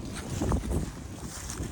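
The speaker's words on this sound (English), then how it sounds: "See how windy it is, Bird?" Gusting wind buffets the microphone outdoors at a dog run in early spring, a steady low rumble with louder swells, no talking.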